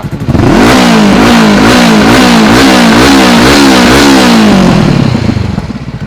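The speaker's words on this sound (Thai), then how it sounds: "ฟังเสียงเครื่องครับ" A used 2018 big bike motorcycle engine revs hard and close, rising and falling in repeated throttle blips that climb and drop in pitch, loud and steady with no talking.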